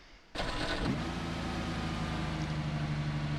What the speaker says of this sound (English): Right, let's fire up the car,